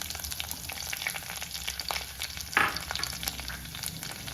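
Five or six spicy green chillies frying on low flame in a pan for Palakkad-style mulaku varutha puli, a continuous crackling sizzle at moderate level with one brief sharper burst midway.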